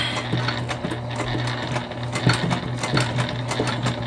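A sewing machine runs steadily while stitching a Magnolia tote bag, a continuous close mechanical hum with a fast rhythmic needle clatter and a few sharper clicks along the way.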